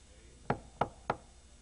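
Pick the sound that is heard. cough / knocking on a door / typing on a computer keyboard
knocking on a door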